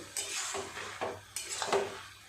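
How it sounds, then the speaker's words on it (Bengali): A spoon stirring ash gourd and coconut curry in a pot, with about four close scraping strokes against the metal in quick succession and a faint sizzle beneath. "এইভাবে একটু ভালোভাবে ঘেঁটে ঘেঁটে দিতে হবে"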